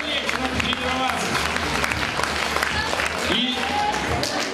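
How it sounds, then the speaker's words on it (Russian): Audience applause for the jury at the Miss Gantsevichi 2008 beauty pageant, a steady dense clatter of clapping filling the hall with crowd noise, loud and continuous throughout. "Еще раз давайте жюри аплодисменты"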